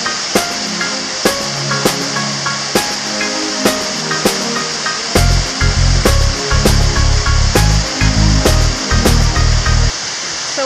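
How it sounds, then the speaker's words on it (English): The Diamond Waterfall in St Lucia roars with a loud, steady rush of falling water, while regular clicks and a low rhythmic thumping sound alongside it through the second half. "The diamond waterfall."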